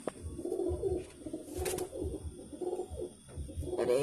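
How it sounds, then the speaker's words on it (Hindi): A Kalsira pigeon, a young desi pigeon that is slightly unwell, coos softly and repeatedly at close range in low, rolling throaty pulses, with no voices over it. "देखिए थोड़ा बीमार है ये कबूतर, कैसे चल रहा है देखिए।"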